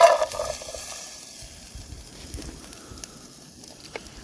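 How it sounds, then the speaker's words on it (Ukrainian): Vegetables dropped into hot oil in a camping pot outdoors hiss sharply at first, then settle into a soft, fading sizzle up close. "Ставлю сюди свій баняк, додаю сюди швиденько трохи олійки, швиденько додаю овочі."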